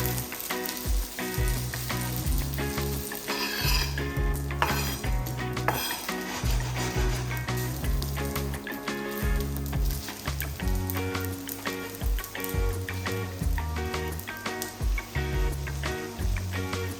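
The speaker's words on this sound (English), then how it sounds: "I start frying tomatoes in sesame oil and add the green beans" Steady loud sizzling of tomatoes and green beans frying in sesame oil in a pan, with occasional clinks of a utensil stirring against the cookware.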